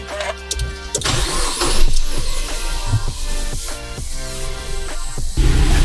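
A 2022 DFSK 560 SUV starts with a keyless push-button: a brief cranking burst catches, then the engine settles into a steady, close idle hum for several seconds, with no talking.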